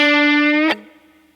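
A distorted electric guitar sustains a bent note rising up to the flat five, bright and loud with rich harmonics, then cuts off abruptly, leaving only a faint decaying tail.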